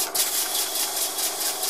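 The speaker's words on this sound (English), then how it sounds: "The first thing you can hear is the safety valve." Safety valve on a circa 1902 Schoenner 107/12 steam engine running on air, giving a steady hiss with faint pulsing, close and fairly quiet, with no voices.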